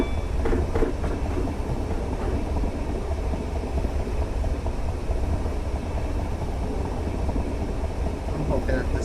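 A train runs steadily in the video game Train Simulator 2019, a Network SouthEast train on the London Bridge to London Victoria route, with a constant low rumble throughout and faint higher tones near the start.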